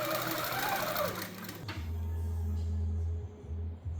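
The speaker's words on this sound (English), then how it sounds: "Okay, so it has finished stitching" A quilting machine stitching quilt borders with a loud fast whirring hum that winds down and stops, followed by a low steady motor drone.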